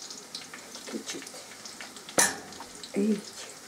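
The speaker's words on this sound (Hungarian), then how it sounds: "Akkor ugyanígy süssük ki a többit is." Battered zucchini fries in a pan, a low steady sizzle broken by a sharp clatter of utensils and a brief louder burst of frying, with no talk.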